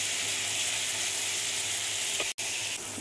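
Ground poppy seed paste frying in a pan with a little salt and turmeric, a steady close sizzle that cuts out for a brief moment, then resumes.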